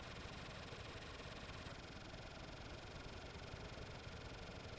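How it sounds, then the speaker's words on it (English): Video-game spaceship engines idle in starter mode, producing a faint, steady broadband rumble and hum with a constant texture throughout, heard alone without speech. "I just realized we left the engines in starter mode"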